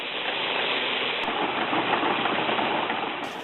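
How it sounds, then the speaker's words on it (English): Horse-powered threshing machine running steadily at Slate Run Farm, a continuous dense rumbling whir of the toothed cylinder beating seed from sheaves, heard close and without talk. "Each sheaf is fed into the machine and the seeds are beaten free from the stalk and seed covering or chaff by a rotating cylinder with stout teeth."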